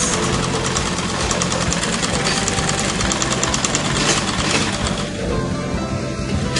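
A sewing machine stitches slanted darts in a basic skirt, a fast continuous mechanical whirr close up that carries steadily before easing slightly near the end.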